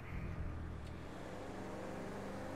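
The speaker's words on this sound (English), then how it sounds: "Dang, this engine in the tunnel" A Sabre's engine rumbles through a tunnel in GTA 5, a low, steady, moderately loud drone echoing off the walls, easing slightly after a brief initial swell, with no voices over it.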